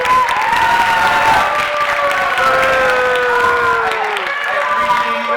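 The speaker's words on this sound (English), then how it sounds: "I appreciate the applause." A crowd at a California Attorney General town hall fills the air with steady applause, cheering and raised voices, loud and continuous throughout with no clear pauses.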